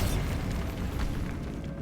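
A Bombarda blasting spell explodes in Hogwarts Legacy, producing a heavy, rumbling low boom that fills the moment and slowly decays, loud and close with no voices over it.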